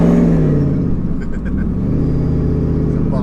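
Supercharged V8 Ford F150 Lightning pickup accelerating from close range, a loud deep engine rumble climbing in pitch with a faint supercharger whir; a voice is briefly heard over it.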